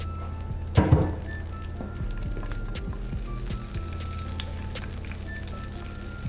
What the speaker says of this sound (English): Now that our oil is heated up, we're gonna add our sun-dried tomatoes.